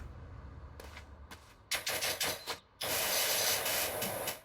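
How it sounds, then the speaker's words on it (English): Pressure washer spraying in PowerWash Simulator, fitted with a 40-degree nozzle, producing loud bursts of broad hissing spray that start and stop, then settle into one long sustained blast. "Putting on the 40-degree nozzle, and I'm just spraying everything that I see"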